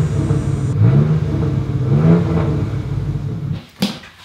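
Car engines revving at a mechanic's shop nearby, heard from indoors as a loud, continuous rumbling roar that swells and dips before a brief drop near the end.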